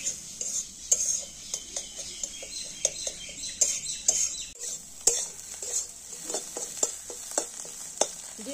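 Egg being stirred in a frying pan for egg bhujia, a spatula scraping and tapping the metal in quick irregular strokes over a soft sizzle, close and moderately quiet.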